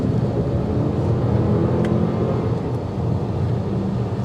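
Steady broadband road and tire noise rolls on inside a moving 2023 Cadillac XT4 Sport on upgraded wheels. The low rumble is even and continuous, with no voices over it.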